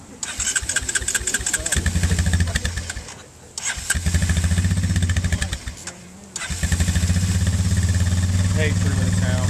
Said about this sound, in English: 2012 Honda Recon ES. All right, right here.